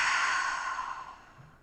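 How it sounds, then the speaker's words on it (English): A single long, breathy exhale during a seated yoga stretch with a strap around the foot, heard close up and fading gradually toward silence, with no talking over it. "And just breathing in and out."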